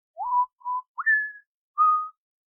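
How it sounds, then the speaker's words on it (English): A person whistles a short tune live on air: four clear, close whistled notes with pitch slides, separated by brief silences, and no talk. "yes, I whistled on air"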